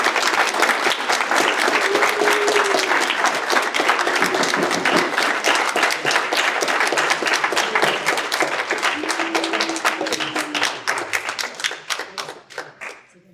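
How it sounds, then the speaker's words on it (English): Sustained applause from the audience at a county commissioners meeting, dense and loud, with a few faint voices calling out underneath, before the clapping thins and tapers off. "please refrain from applause as this is being recorded and it creates an interruption on our audio"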